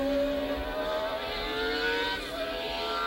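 A 1982 Brabham Formula 1 car on the Jacarepagua circuit in Brazil, its engine a loud steady high-pitched howl that holds and then shifts slightly in pitch as the car passes close by.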